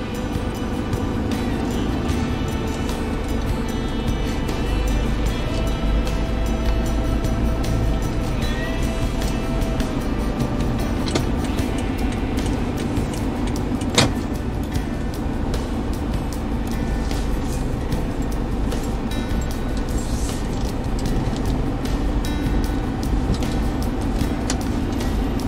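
Cars driving past and turning left along a road at the Greenhills mall expansion in the Philippines, a steady nearby traffic rumble that continues without a break throughout, with a brief sharp click partway through.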